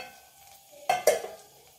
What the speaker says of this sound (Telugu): చివరగా ఫ్రై చేసుకున్న జీడిపప్పుని వేసుకుందాము